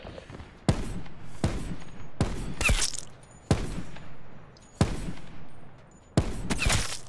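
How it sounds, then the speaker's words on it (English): Single loud gunshots fire at a steady, spaced rhythm, roughly six sharp reports with echoing tails, during a Call of Duty Blackout battle-royale match. "The other guys are shooting at him"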